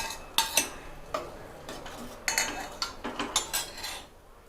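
A metal ladle mashing and stirring sambar dal with onion and pumpkin in a pot, making repeated close scraping and clinking strokes in an irregular rhythm.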